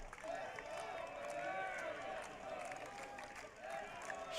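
A tennis crowd at an NCAA college championship match cheers and claps in a sustained, fairly distant roar with rising swells, and a commentator's voice is also heard.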